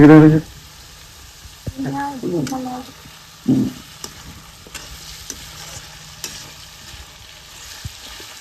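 Bamboo shoot and broiler chicken frying in a pan for an Assamese home recipe, a loud burst of sizzle at the start and then a softer, steady fry with occasional stirring clicks while a person speaks briefly.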